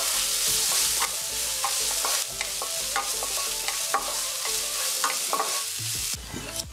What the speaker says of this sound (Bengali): তিনটা মাঝারি সাইজের কাঁচামরিচ এখন এগুলো খুব ভালোভাবে একটু ভেজে নিতে হবে বাদামি হওয়া পর্যন্ত